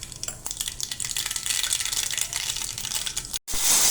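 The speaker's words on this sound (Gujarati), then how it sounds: "તેલ આવી ગયું છે તો અંદર રાઈ અને જીરું નાખી દઈએ" Mustard seeds and cumin hit hot oil for Gujarati sev tamatar tempering, crackling and sizzling loudly and steadily, a brief gap near the end before the spitting resumes even brighter.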